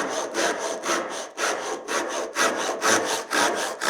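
Gentle, even strokes of a Japanese back saw rasp through a piece of wood up close, around eight unhurried passes in a steady back-and-forth rhythm with no talking.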